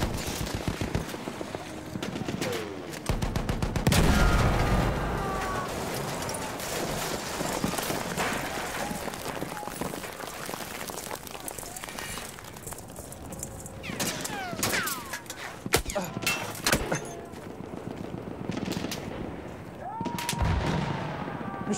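Machine gun fire in the Battlefield video game, with repeated bursts and scattered gunshots amid battle noise, some distant, some close and loud, continuing through the scene.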